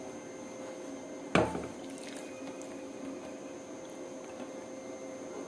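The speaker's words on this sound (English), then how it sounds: "Transfer it into the bowl, add some water and soak it to get softer." Water poured into a bowl to soak a natural anti-aging face mask ingredient: one short splashing pour near the start, then a quiet room with faint drips.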